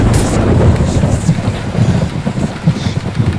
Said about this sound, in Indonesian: Dan nampaknya di luar lagi hujan